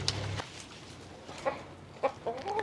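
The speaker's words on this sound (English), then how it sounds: "I'm going to go ahead and let the chickens out because they're dying to get out of here" Backyard hens cluck and mutter close by as they leave their coop, scattered short calls over a quiet outdoor background.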